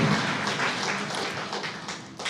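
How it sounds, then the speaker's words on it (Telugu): A church congregation claps loudly together in praise, a dense continuous patter of many hands filling the hall at steady volume without talk. "ఒకసారి గట్టిగా చప్పట్లు కొట్టి దేవుని మహిమపరుద్దాం"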